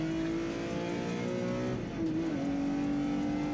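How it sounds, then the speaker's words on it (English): A BMW E46 M3 circles a race track alone, its engine holding a steady, fairly loud tone that dips briefly and then pulls back up as it carries on at a distance. "When it's just one car out there, you can hear it, can't you?"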